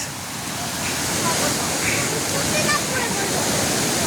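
Loud, continuous roar of a waterfall, broadband rushing water filling the whole clip with no letup.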